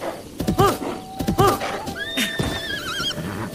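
A horse in the video game The Legend of Zelda: Breath of the Wild whinnies twice in quick succession, with hoof clip-clops and a rising, warbling game chime afterward; a voice murmurs faintly underneath.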